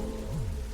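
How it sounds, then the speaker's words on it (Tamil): Steady rain falling outdoors makes a continuous, even hiss throughout, with a faint low tone drifting underneath and no voices. "மழை வேற பெய்யுது"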